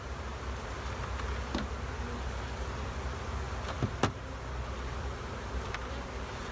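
Honey bees hum around a strong hive during an inspection, a low steady buzz under a faint hiss, with a few soft knocks and one sharper tap partway through.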